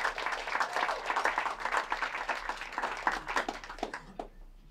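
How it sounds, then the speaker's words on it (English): An audience at a conservation talk gives a modest round of applause, many hands clapping at moderate distance and thinning out toward the end. "So I think that in itself deserves a bit of a round of applause."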